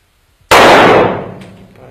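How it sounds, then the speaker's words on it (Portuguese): One loud .40 caliber pistol shot bursts suddenly from quiet, followed by a ringing tail that slowly dies away. "Disparo com a pistola calibre .40."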